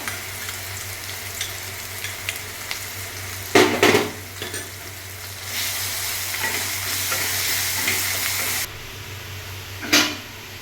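Garlic and onion paste frying in a pan for Bengali chicken kosha: a steady, close sizzle broken by loud clanks and scrapes as a spoon stirs the pan.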